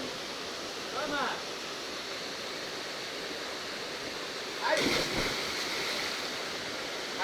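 Cold water of a stream at a campsite rushes steadily as a broad, constant wash, with a brief spoken word and a louder splash or movement near the water partway through.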